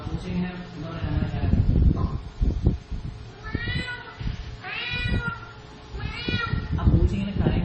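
A person imitates the cry of a frightened cat. Several drawn-out, wavering meow-like wails come in short bursts over noisy background talk.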